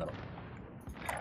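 Gunfire in Call of Duty: Warzone, a 150-player battle royale, comes as rough bursts of shots that sound somewhat distant. They sit inside a steady, noisy game mix, with a sharper crack near the end.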